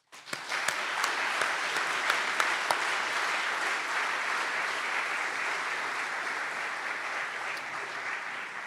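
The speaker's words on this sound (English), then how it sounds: "Can we give them and you a round of applause?" Audience applause fills a hall at an award ceremony, dense and sustained clapping from a large crowd running steadily for nearly nine seconds with a few sharper individual claps near the start.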